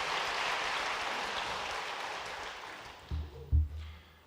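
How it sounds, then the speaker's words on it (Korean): Church congregation at a Sunday worship service applauding to welcome two couples, a steady broadband patter of many hands that fades out, followed by a few low thumps near the end. "큰 박수로 다시 한번 환영하겠습니다."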